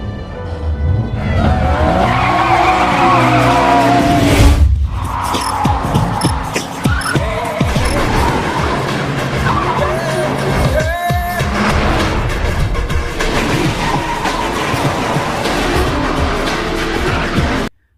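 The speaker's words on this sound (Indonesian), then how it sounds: "Sky memakai Mitsubishi Lancer Evo dan Tang Fung menggunakan Subaru Impreza-nya dan saling beradu kecepatan dan keterampilan" A Mitsubishi Lancer Evo and a Subaru Impreza race each other, with loud engines roaring and tires squealing through skids, all up close over a continuous bed of music.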